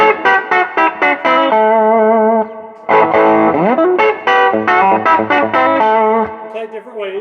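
Country lick in A played on a Nashville Telecaster electric guitar through a slightly driven, effected tone: quick picked notes, a held chord, a bend, then more rapid runs, loud and close with no talking.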